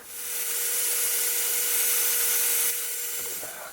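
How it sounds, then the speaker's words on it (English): A power sander smooths the edge of a cocobolo wood knife scale in a workshop, a steady close, loud abrasive hiss that runs unbroken for several seconds before easing off at the end. "I'm going to run it over here on the sander real quick"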